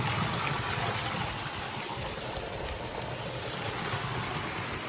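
A waterfall in a mountain cave pours as a dense, continuous broadband rush, close and steady throughout with no voices.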